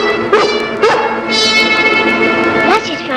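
Lassie the collie from the TV show barks and yips in several sharp, close bursts, with whimpering tones between them and a brief sustained whine.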